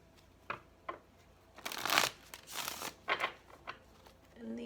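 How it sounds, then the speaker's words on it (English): Tarot cards shuffled by hand in a few quick riffling bursts with soft taps between them, close and fairly quiet, with no talking over them. "This will be our final shuffle."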